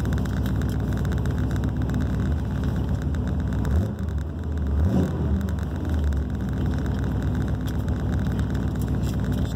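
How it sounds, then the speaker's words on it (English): An old big-block truck engine sits at high idle, a steady loud low rumble that holds through the whole stretch, with brief rattling and a short dip in the middle. "still on a little bit of high idle."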